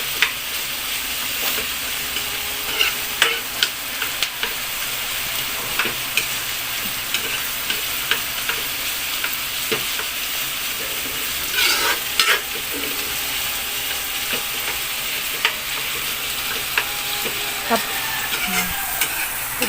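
Tomatoes for seafood kare-kare stirred and frying in a pan: steady close sizzling with repeated scraping and tapping of the spoon, faint talk in the background.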